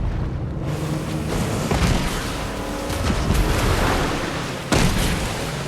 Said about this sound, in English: They're firing grenades and that boy's waiting around for them to hit us.